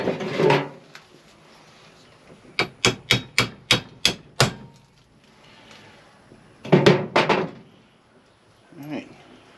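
A hammer taps a bolt through a modified bullet-proof motor mount on a Chevrolet Suburban 8.1, giving a quick run of about seven sharp metallic strikes followed by a second cluster of hits, with talk around them.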